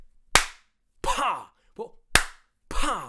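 Two sharp, loud slaps ring out, each followed by a short vocal reaction like a groan or exclamation.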